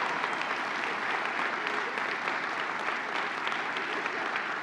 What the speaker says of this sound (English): Would you give a round of applause to our staff here at Grace?